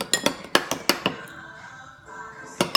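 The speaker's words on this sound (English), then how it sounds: "Now you need to stir super well" A utensil stirs a slime mixture dyed baby blue in a bowl and clinks against the side. Several sharp clinks come up close in quick succession, a short quiet gap follows, then a couple more clinks, with no talk.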